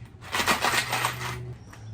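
Small coins rattle inside a sister's piggy bank as it is shaken in a quick burst of jingling clatter for about a second, then it fades over a low steady hum.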